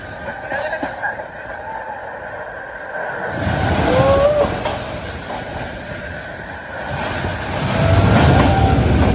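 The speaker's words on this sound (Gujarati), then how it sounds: "રેલવેમાં મુસાફરી કરતાં કરતાં વધારે એક અનુભવ થયો ટનલની અંદરથી જવાનો" A train rumbles steadily along the rails in Kashmir, passing through a tunnel, with rhythmic clatter and occasional squeals of wheels, the roar swelling louder at times.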